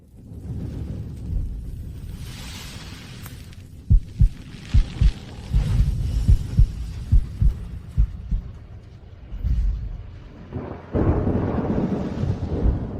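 A deep rumbling thunder-spell sound effect with a series of sharp, booming thumps in the middle and a swelling roar near the end, loud and without speech.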